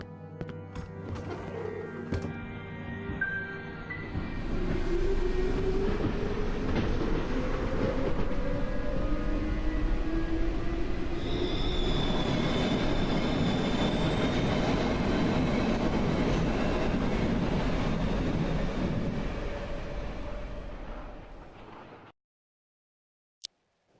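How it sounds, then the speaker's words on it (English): A subway train ride in the horror video game Cry of Fear: a steady, heavy rumble of wheels on rails with drawn-out screeching tones, carrying on for a long stretch before cutting off, with no talk. "We board the subway and all is well."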